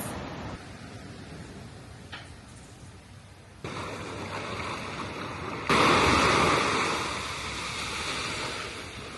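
Ocean waves rolling onto the beach at Sandals Halcyon, Saint Lucia, a steady broadband wash that swells louder midway, with no voices.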